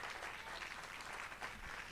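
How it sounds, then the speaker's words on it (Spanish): Congregation applauding for the Lord during a church sermon, a steady dense clatter of many hands filling the whole stretch without a pause. "Denle un aplauso al Señor."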